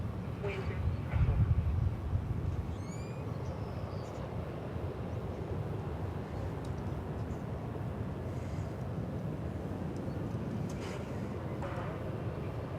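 A jet airliner departing DFW Airport makes a broad, steady roar that fills the whole stretch at moderate distance, with a brief burst of wind buffeting early on.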